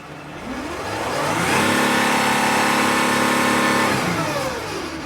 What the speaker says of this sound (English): So the engine is revving up